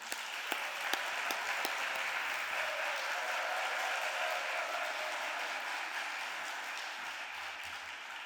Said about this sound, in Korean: 나오실 때 우리 큰 박수로 우리 환영해 주시길 바랍니다.